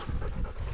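Close, rapid panting from hunting dogs after a pig hunt, short breathy pulses with a faint whine mixed in, no voices.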